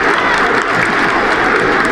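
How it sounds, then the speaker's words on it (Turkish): Football fans in a stadium applaud in protest after Göztepe's 2-0 home loss to Alanyaspor. The clapping is dense, loud and continuous, with a broad crowd roar throughout. "Şu an alkışlarla protesto."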